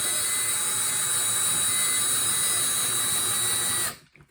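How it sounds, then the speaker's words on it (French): A power drill boring a hole with a drill bit for a projectile-launcher build, a loud sustained high whine running steadily for about four seconds before stopping abruptly, close with no speech. "et je perce."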